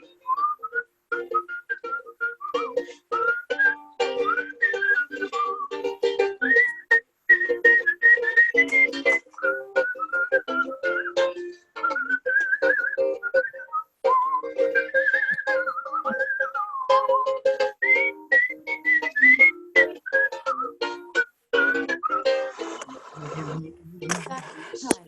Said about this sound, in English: All right, everybody whistle.